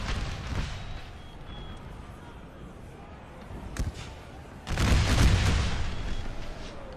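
Musket volleys in a Napoleon Total War American Civil War mod battle at Gettysburg, with scattered distant gunfire cracks and a heavier burst of firing near the end over steady battlefield noise.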